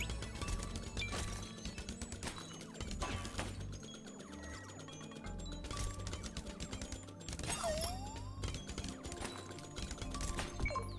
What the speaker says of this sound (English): There are too many bullets flying around everywhere for being on water.